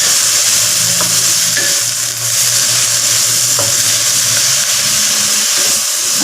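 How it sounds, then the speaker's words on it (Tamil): Mint leaves, chillies and a small piece of tamarind sauté in a hot pan, giving a steady loud sizzle with scraping stir strokes and brief clinks throughout, no voices. "ரொம்ப நேரம் வதக்குறோம் இல்லை, கொஞ்சம் நேரம் வதக்கிட்டு"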